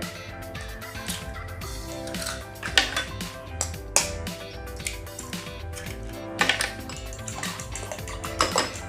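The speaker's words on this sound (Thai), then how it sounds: "เราก็จะมาตีไข่รอนะคะ" Eggs beaten in a bowl for a Thai stir-fried rice noodle dish, giving a steady run of quick clinking strokes against the dish, fairly close, with sharper clacks at intervals and music playing underneath.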